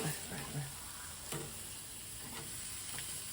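Meat searing on a hot grill grate gives a steady close frying sizzle that holds throughout, with a few brief knocks and scrapes over the hiss.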